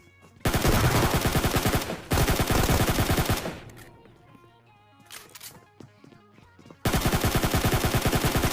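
Gunfire in the PUBG Mobile video game comes in loud, rapid automatic bursts of shots, separated by a quieter stretch with softer in-game sounds before another burst.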